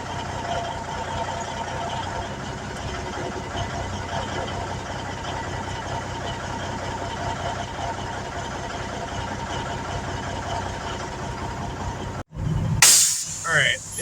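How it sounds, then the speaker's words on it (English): A big rig truck hauling doubles idles steadily while backing toward a trailer, its low engine rumble close and constant, then a sharp break and a brief clunk near the end. "So I'm not going to completely back under the trailer yet."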